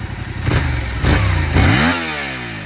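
A Yamaha R7 motorcycle with its stock exhaust cranks in a few heavy pulses, then catches and settles into a steady idle. The engine is close and loud, with no talk over it.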